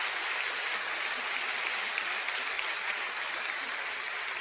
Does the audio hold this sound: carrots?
no